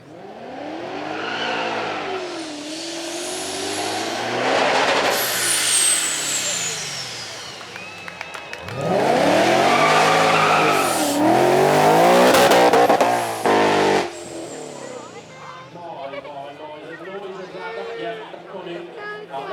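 Turbocharged Toyota V8 pony car running on track at the Beaulieu Supercar Weekend, with engine roars rising and falling, a loud drive-by surge midway, and commentators talking throughout.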